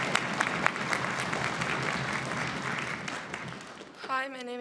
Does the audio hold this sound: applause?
yes